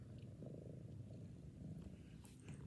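A cat purrs close up, a soft, steady low rumble with rhythmic pulses, quiet and continuous with no talking.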